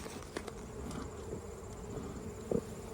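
Honey bees at an open hive during inspection give a steady faint buzzing hum throughout, with a few soft taps and clicks nearby.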